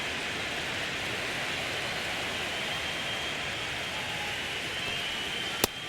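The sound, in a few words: rain falling on baseball field in a baseball video game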